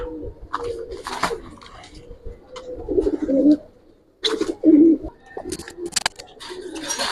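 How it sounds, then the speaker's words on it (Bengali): Giribaz pigeons in a loft coo loudly at close range in repeated throaty bursts, with rustling and wing flutters between calls. "এগুলো অনেক ভালো কবুতর"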